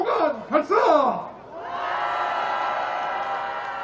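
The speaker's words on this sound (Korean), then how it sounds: "백두산 호랑이의 함성 3초간 발사!" At a political rally outside Gangnam Station, a crowd lets out a sustained roaring shout like a tiger's roar, rising after a few loud amplified words and holding steady for several seconds.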